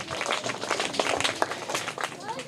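Young class 3 schoolchildren burst into quick, scattered applause for a correct answer, the claps fairly soft and uneven over a couple of seconds, with voices mixed in.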